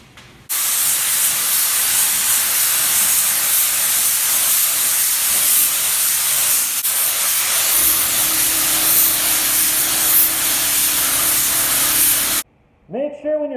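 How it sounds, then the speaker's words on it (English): A spray gun hooked to a supplied-air system sprays clear coat onto taillights, a loud, steady hiss running for about twelve seconds, its tone shifting partway through, then cutting off abruptly. "Take your gun, hook it into your supplied air system, and"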